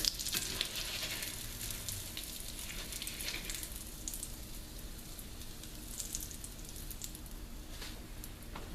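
Crab cakes frying slowly in a pan, with a soft, steady hiss and light crackle that holds a constant low level throughout, close but quiet, with no talk.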